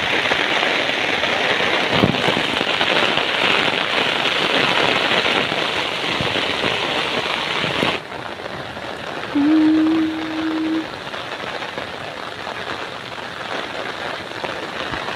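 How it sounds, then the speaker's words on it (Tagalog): Steady rain hisses across the whole clip, dense and close, with a brief low tone sounding partway through. "Ulan."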